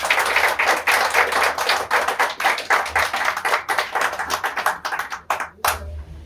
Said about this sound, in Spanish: Un fuerte aplauso entonces.